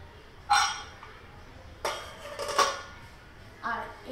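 A metal cooking-pot lid used for braising large batches of meat clinks and clatters in a few separate knocks against the pot, close and fairly quiet, with a faint voice in the background.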